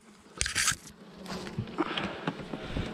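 A bee swarm being caught into a box in April, loud close buzzing bursts with scraping and knocking sounds, then fainter buzzing continuing.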